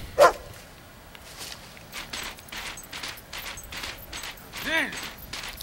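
A dog in the Fable 2 video game gives a few short, faint barks and yips, one sharp bark at the start and another near the end, over quiet game ambience.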